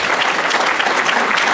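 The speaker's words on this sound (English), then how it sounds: "That's worth a round of applause" A large audience at a senator's speaking event breaks into loud, steady applause that fills the short moment evenly.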